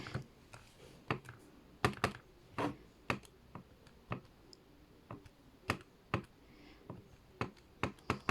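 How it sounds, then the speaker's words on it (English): Typing on a computer keyboard, a close series of sharp, irregular key clicks in short bursts over a quiet background with no talking. "We're going to type this in."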